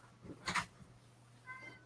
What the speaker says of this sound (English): This cat meows to come in